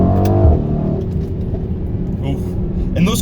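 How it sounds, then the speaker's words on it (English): Exhaust of a 2020 Mercedes-AMG GLC 63 S Coupe, a loud engine drone with sharp crackles and pops scattered through, up close, with a voice talking over it. "those crackles, those pops that happen are really loud"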